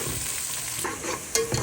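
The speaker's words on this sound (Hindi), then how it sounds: "ऑयल गर्म हो गया, अब हम डालेंगे प्याज।" Onions hit hot oil for an aloo moongray dish, producing a close, steady frying sizzle with a brief louder crackle and stir near the end.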